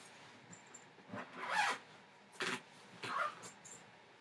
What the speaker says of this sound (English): I have my little suitcase down here, which I'm going to zip up and show you how big it is.